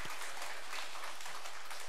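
A church congregation claps in a dense, even burst of applause that fills the whole moment without pause.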